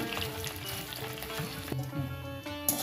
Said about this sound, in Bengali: আমি এবার নারকেলটাকে ভেজে নেব একটু হালকা ব্রাউন কালার করে ভেজে নিচ্ছি